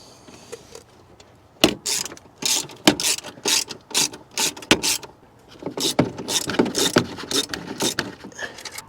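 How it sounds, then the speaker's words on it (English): Rapid bursts of ratchet clicking from a wrench on a wobble-head extension, tightening bolts on an ARB twin compressor mount in a Sprinter van; short, close, irregular clicking runs separated by brief pauses. "I'm using an extension that has a wobble head on it to be able to get to that that forward bolt"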